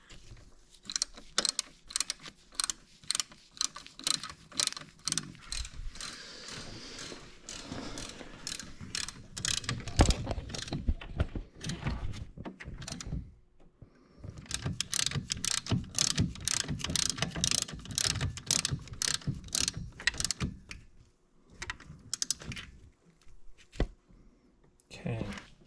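A ratchet clicks in rapid bursts, tightening the lower triple-clamp nuts on the front forks of a GL1500 Honda Goldwing, with brief pauses between runs and people talking.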